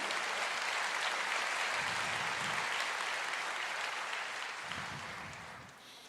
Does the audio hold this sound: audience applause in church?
yes